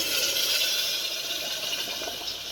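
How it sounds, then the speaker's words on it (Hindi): Water is poured into a pot of chana dal and brinjal cooking in a village-style kitchen, making a steady, continuous gushing splash for a couple of seconds with no talk. "अब इसी में हम पानी डाल देंगे"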